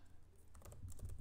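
Someone types quickly on a computer keyboard, a short run of close, soft key clicks that grow slightly denser toward the end.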